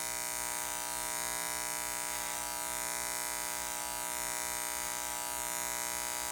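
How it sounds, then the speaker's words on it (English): An electric hair clipper runs close by while cutting short hair at home, giving a continuous even buzz with a slight wavering as it moves through the hair, with no talking. "instead of scissor, we're using the clipper."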